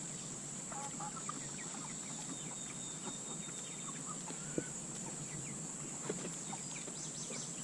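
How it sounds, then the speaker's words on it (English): Eight-week-old free-range Cornish Cross chickens foraging in a dirt patch on a humid, still day. Soft, scattered clucks sound at a moderate distance over a constant high insect-like buzz, and no one speaks. "look at these chickens. They really love this dirt area"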